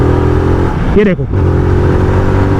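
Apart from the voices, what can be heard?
Zontes 350R motorcycle accelerating in 5th gear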